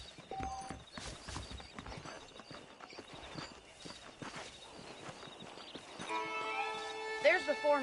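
Horse hooves clip-clop quietly at a walking pace in the Western video game Red Dead Redemption, blending with faint ambient game sound. Near the end, a bright musical tone and louder effects rise over the hoofbeats.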